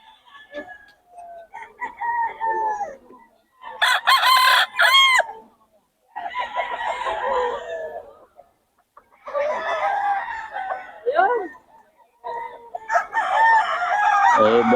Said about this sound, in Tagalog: Boss Joey, magkano manok natin?